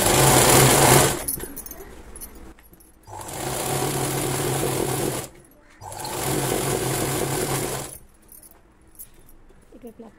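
A sewing machine stitches folded cloth along the bottom of a Punjabi dress in two loud, steady runs of about three seconds each, separated by short pauses with rustling.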